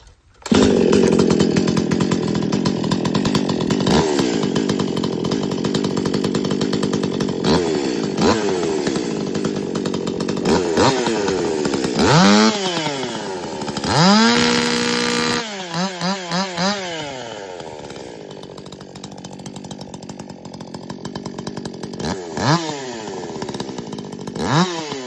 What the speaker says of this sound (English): give it a little go and see if it sounds different and if it feels like I can feel a difference in the throttle of the saw